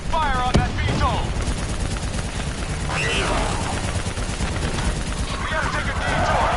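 Dense, sustained gunfire and machine-gun bursts from the video game Call of Duty Black Ops 3 campaign, with shouted voices breaking in over the loud continuous battle noise.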